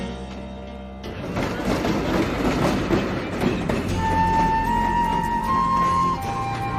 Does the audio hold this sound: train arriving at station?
yes